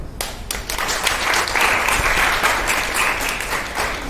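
A workshop audience claps steadily, a dense burst of applause that swells in the middle and carries on throughout, fairly loud and close.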